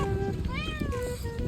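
A cat meows in short, rising cries close by, over a busy background with some talking.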